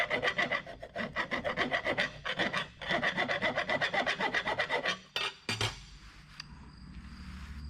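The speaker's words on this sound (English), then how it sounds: "So now we're going to do our file test on them." A metal file rasps across quenched steel in a file test, about a dozen quick rhythmic strokes in close succession before it stops, leaving a few clinks and a quiet tail.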